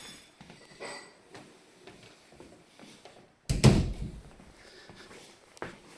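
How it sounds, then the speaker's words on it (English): A wood burner stove door is shut with one sharp, loud clunk midway through, after quiet rustling and small handling noises. "Let me shut this door."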